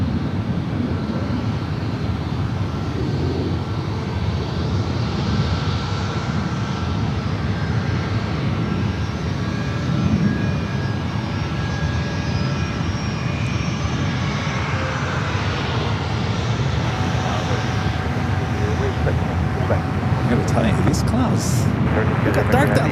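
Airliners at San Francisco airport, a broad continuous roar of jet engines that holds steady for a long stretch, heard outdoors from a plane-spotting spot with a faint background murmur.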